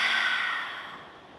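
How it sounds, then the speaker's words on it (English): A single long, breathy exhale out the mouth during yoga breathing, close and loud at first, then fading away. "and exhale out the mouth."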